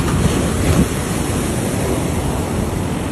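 Ocean waves surge and wash up on a beach near the shoreline, producing a steady, loud broadband roar with a slightly stronger swell in the first second and no voices.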